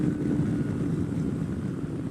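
Kawasaki Versys-X 300 2017 motorcycle with stock exhaust revved to about 10,000 RPM, a steady, fairly quiet high-pitched engine drone held without a break.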